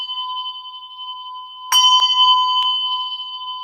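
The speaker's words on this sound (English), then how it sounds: "So we want the bell to do the work" A handbell ringing at a bell-ringing technique session, a sustained bright metallic tone with a fresh strike partway through, then a clear, slowly fading ring.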